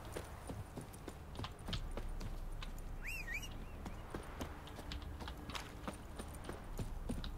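Geralt's horse Roach clip-clopping along in The Witcher 3: Wild Hunt, a steady run of hoofbeats over game ambience with a brief higher sound midway.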